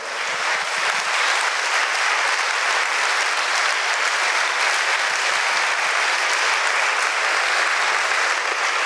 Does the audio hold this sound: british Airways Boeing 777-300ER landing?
no